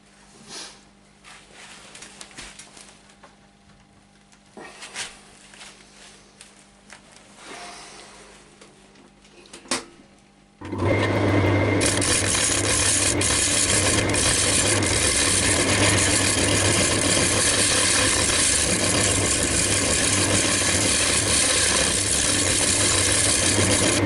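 A wood lathe turning a large bowl at 500 rpm starts up around the midpoint and runs as a loud, steady whir with the scraping hiss of a scraper; the first half is quiet with faint rattles.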